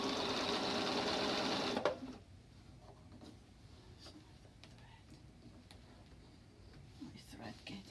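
A sewing machine stitches an X onto a quilt with steady, dense whirring for about two seconds and then stops. Soft handling sounds and quiet speech follow.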